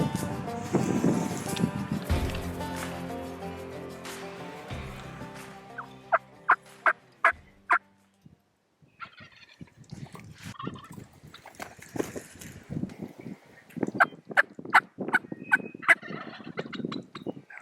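Wild turkeys gobble repeatedly at moderate distance outdoors during a hunt, several sharp bursts in clusters with pauses between, while a person speaks quietly at the start.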